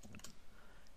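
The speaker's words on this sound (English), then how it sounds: "So type in your password" Brief burst of keystrokes on a computer keyboard as a password is entered, a few quick soft clicks near the start, then quiet room tone.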